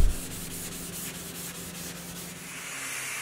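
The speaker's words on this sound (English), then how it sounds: "I'm sanding it with some 400 grit wet sandpaper" Steady hand wet sanding of primer on a car panel with 400 grit wet sandpaper, a continuous close scratchy rubbing with even strokes throughout, no talking.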